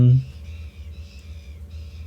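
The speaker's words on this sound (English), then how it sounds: "The seagulls." Seagulls cry out in a few thin, repeated calls, fairly faint and distant over a low background rumble.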